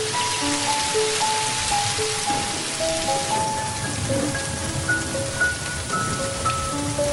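Rain falls steadily in a dense, continuous hiss, with faint tonal sounds drifting in the background.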